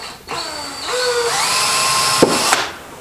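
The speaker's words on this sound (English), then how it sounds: "I want them to all have a little tiny bit of that little slot that the key's going to fit in by just drilling some small holes." A power drill bores small holes in a Hawken rifle stock to start the slot for a barrel key. The motor whines loud and close, rising and shifting in pitch under load for a few seconds, with nobody talking.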